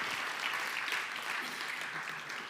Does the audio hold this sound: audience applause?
yes